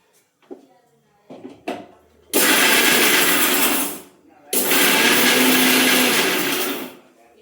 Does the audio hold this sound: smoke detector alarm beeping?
no